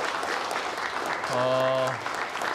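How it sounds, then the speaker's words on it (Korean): Applause rises as South Korean President Moon Jae-in and North Korean leader Kim Jong Un enter a joint press conference hall in Pyongyang. It is a continuous, even clapping with a brief tonal sound in the middle, and a voice partly over it. "박수가 들리고요"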